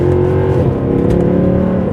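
A BMW M140i or Mercedes W204 C63 AMG engine pulling hard in second gear, a loud close rising drone as the revs climb, with no voices over it.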